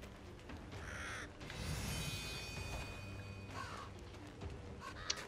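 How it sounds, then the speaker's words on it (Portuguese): Crows caw in Vikings: Wolves of Midgard, harsh repeated calls rising over a steady wash of wind-like game ambience and a faint tonal drone. "Essas aves são chatas pra caramba."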